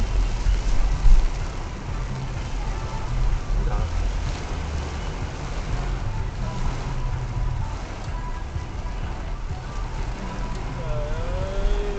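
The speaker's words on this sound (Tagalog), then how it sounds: "Heavy rain." Heavy rain falls as a dense, continuous roar that stays steady throughout, with faint low rumbling in the background.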